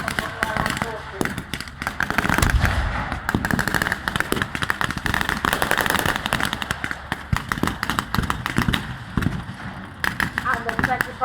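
Heavy 25-pounder field guns boom repeatedly during a WW2 battle re-enactment at a military show, with loud irregular blasts and sharp cracks of small-arms fire throughout, under a commentator's voice.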